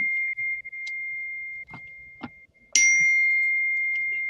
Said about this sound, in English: Is this the meditation bell?